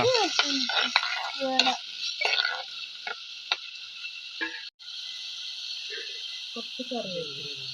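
Tomatoes and ginger sauté in hot oil in a pan, a soft sizzle with scraping stirs, heard under a woman's chatter that breaks off near the end.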